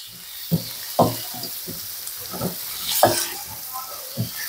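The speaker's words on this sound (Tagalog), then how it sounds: "Halu-haluin lang natin yan." Ginataang langka, jackfruit in coconut milk, is stirred in a pan, giving a series of wet scrapes and knocks of the utensil over a low simmering hiss, close and moderately loud.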